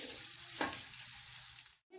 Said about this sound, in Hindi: ऑयल गर्म होते ही इसमें मैं 1 कप अनियन डाल रही हूँ।